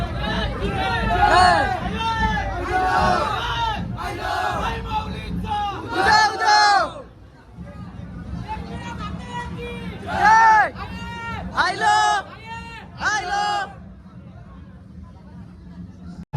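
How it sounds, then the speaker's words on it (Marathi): A crowd at a village palanquin procession shouts and chants in loud rhythmic bursts, surging and pausing over a continuous low rumble of voices and movement. "तर तुम्ही बघू शकता माहेर घराला किती गर्दी आहे."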